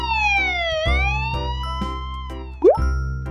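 A cartoon police car siren from Robocar Poli wails in smooth, sweeping tones. It rises and falls loud and close, then ends with a quick upward chirp.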